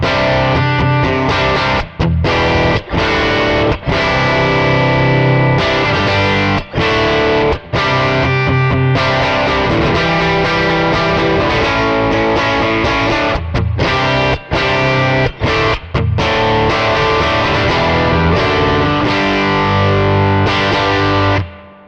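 Electric guitar through a 58 Bandmaster amp profile on the bright instrument channel, distorted and loud, with continuous strummed chords broken by brief stops before fading at the end.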